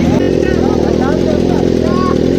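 A motorcycle fitted with an SC Project exhaust runs close and loud at a moto fest, a dense, steady engine rumble throughout, with people talking over it.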